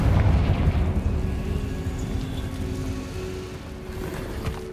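A Confringo spell explosion in Hogwarts Legacy bursts as a loud, deep boom at the start, then fades into a long rumbling tail.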